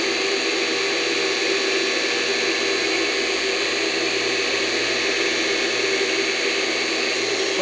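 A surface grinder squares a steel block, giving off a steady, unbroken, hissing whir of wheel against metal that stays constant and close throughout.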